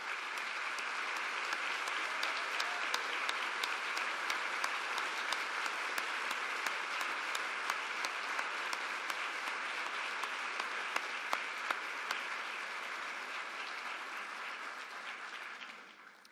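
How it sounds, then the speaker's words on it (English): An audience claps together through a closing presentation event for a design team, a dense, steady wash of applause that holds evenly for about fifteen seconds before tapering off, with no speech. "let us thank you with our applause"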